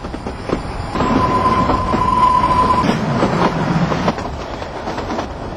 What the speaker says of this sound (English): Immediately after its departure from Kalka station, the train enters the foothills, beginning its picturesque serpentine climb.